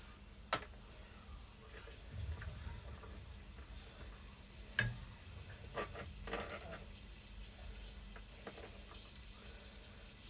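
Chicken and sweetcorn cooking in a frying pan, a soft continuous sizzle with occasional clinks and stirring knocks, fairly faint and steady.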